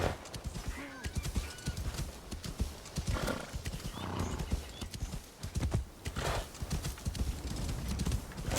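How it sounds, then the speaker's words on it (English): Horse hooves clip-clopping steadily on temple grounds in a Japan-set video game, loud and close with a rapid even rhythm, a whinny breaking through, and someone talking over the hoofbeats. "just riding a horse on temple ground"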